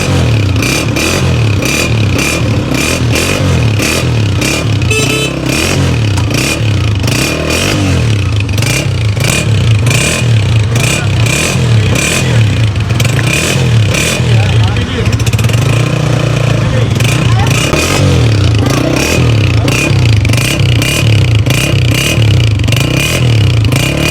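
A 2023 Honda CG 125 motorcycle, a 125 cc single-cylinder bike, idles and revs with a steady, throbbing engine note and a light mechanical clatter, loud and close throughout, with a voice talking over it.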